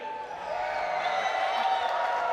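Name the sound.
live esports crowd cheering at Apex Legends ALGS championship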